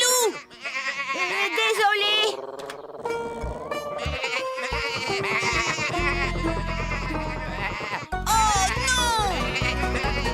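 Cartoon sheep bleat repeatedly in a children's farm animation, wavering animated cries overlapping with music and a child-like voice speaking between them.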